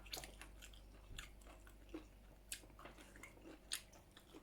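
Someone bites into and chews crispy pork rind, giving faint, close crunches and snaps in an irregular rhythm over quiet chewing, with no talk.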